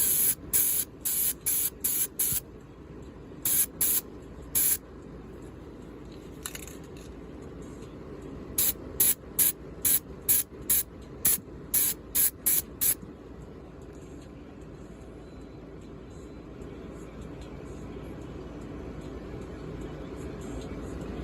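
A spray can of Tamiya Smoke X-19 paint tints the windows of a Silverado in a string of short, sharp, hissing bursts. The bursts come close together, stop for a while, then come again before quiet.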